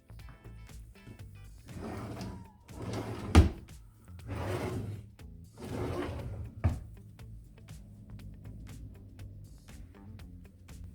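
Drawers in the kitchen of a large single-section manufactured home slide open and shut, about three long smooth glides with a couple of firm wooden thunks as they close.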